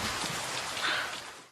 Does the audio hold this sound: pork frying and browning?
no